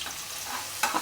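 Onions frying and being stirred in a pan, a soft continuous sizzle with a quick louder scrape of stirring near the end, close and alone without talk.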